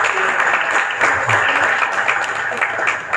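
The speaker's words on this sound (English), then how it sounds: "Please give them a big round of applause" Audience applause at a chamber of commerce general membership meeting for city councilors, a dense continuous wash of many hands clapping throughout, loud and close, with faint voices mixed underneath.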